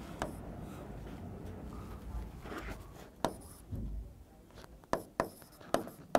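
Chalk or marker writing on a board during a physics class, with scattered sharp tapping strokes and squeaks, quiet and close, mixed with soft room noise and faint voice.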